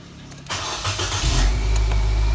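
A 2010 Nissan Grand Livina XV starts up: a brief starter crank catches into a rising engine roar, then settles into a steady, loud idle close by.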